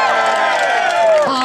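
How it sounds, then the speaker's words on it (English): A crowd at a street protest against legal aid cuts cheers and shouts in a loud, continuous roar, with voices overlapping close by. "Warm up, give them a cheer."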